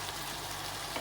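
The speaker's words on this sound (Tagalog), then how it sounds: "igigisa muna yung bawang at sibuyas" Garlic and onion sauté in a pan, a dense, steady sizzle close up that fills the whole second without pause.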